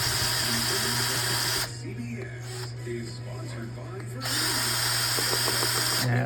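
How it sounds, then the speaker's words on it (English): A power drill or driver backs screws out of a warm-up regulator from a Volkswagen Cabriolet, whirring loudly in two bursts with a quieter pause between, while someone talks over it. "we're going to start by taking the screws out"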